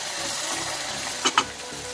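Steady hiss of masala-stuffed brinjals frying in oil in a pan, with two quick clinks or knocks near the end.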